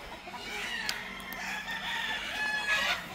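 Battle stag roosters at a gamefowl farm crowing and clucking in overlapping calls, several birds at moderate distance, with steady farmyard background and no voices.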